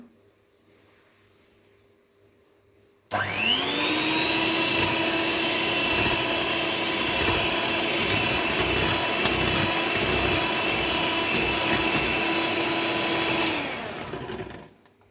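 An electric mixer whirs into life after a quiet moment and runs at a steady pitch for about ten seconds, beating buttermilk into eggless lemon cupcake batter, then winds down. The motor is close and loud, with no talking.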